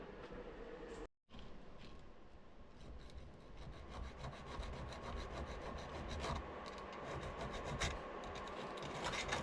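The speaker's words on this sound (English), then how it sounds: "I'm just going with a needle file, cleaning up the edges." A needle file rasps steadily along the edges of a small metal part for a scratch-built horizontal model steam engine. The scraping is close, continuous and dense, with a brief gap near the start.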